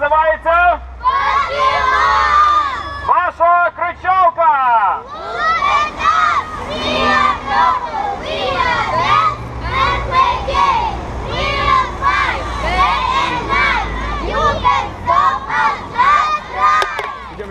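Children's team shouting a loud chant together at a roller rink, a dense, energetic crowd of young voices cheering and yelling continuously throughout.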